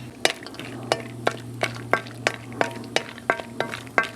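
Cashews and almonds frying in a spoonful of oil for a whole chicken masala fry, with a steady close sizzle and a regular series of sharp clinks from a spoon stirring against the pan, about three per second.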